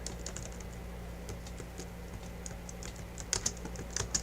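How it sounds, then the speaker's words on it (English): Keystrokes on a computer keyboard, a steady stream of light taps with a few louder clicks near the end, close and alone. "I am typing it right now."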